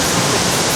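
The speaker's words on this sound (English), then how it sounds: "As you can see, it's a majestic view of the waterfall behind me." Shifen waterfall in Taiwan roars as a loud, dense and continuous rush of falling water, close and steady across the whole short stretch, with no talking.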